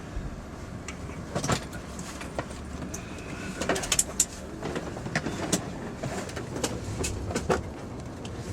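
Inside a train travelling from Berlin to Cologne, a quiet steady rolling rumble with scattered clicks and rattles from the carriage, faint and continuous.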